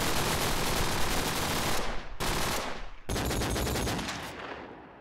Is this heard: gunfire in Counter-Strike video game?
yes